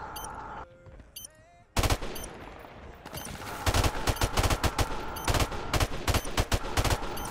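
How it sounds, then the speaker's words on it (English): Rapid bursts of automatic gunfire from a first-person shooter match in a 4v4 search-and-destroy mode, loud and close, with clustered shots after a brief lull and a few scattered reports. "How the fuck does your gun do that, Soulsies?"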